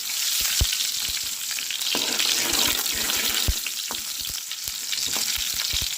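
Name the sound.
frying onions and curry leaves in oil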